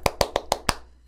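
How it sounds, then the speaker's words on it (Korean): Five sharp, evenly spaced hand claps from a single person in a quiet room, crisp and close, followed by a brief pause and a faint tap at the end. "네, 항상 이렇게 신나게 박수를 치고 있지만"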